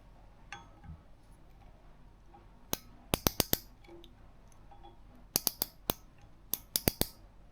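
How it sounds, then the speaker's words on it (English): A micrometer being turned while measuring a 1976 BMW 2002 cylinder head gives small, crisp clicks, first a few scattered ticks, then quick rapid bursts of ratcheting clicks, close and fairly faint over quiet room tone. "I don't know if you can hear that little click, but I have a little click there"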